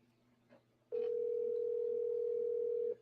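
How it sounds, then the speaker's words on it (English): A telephone sounds a single steady electronic tone that holds clear and unbroken for about two seconds after a faint brief sound, over a quiet low hum. "Can you guys hear my phone ringing?"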